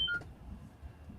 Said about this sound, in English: It's my text tone